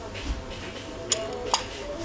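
Glass dessert plates and a salad bowl in a shop, two quick bright clinks of glass knocking together over a low background murmur.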